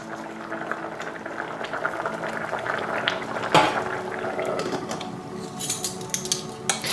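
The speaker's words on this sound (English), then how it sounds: "Reducing the heat and allow it to boil away." A vegetable curry bubbles steadily in a pot over reduced heat, a continuous close simmering hiss with small pops, plus a brief clink near the middle and a few sharper taps toward the end.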